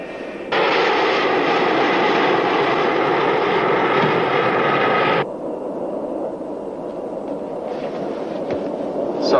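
Jet aircraft engine in flight at cruising altitude, a steady loud broadband roar that cuts off abruptly midway, leaving a softer cabin hum.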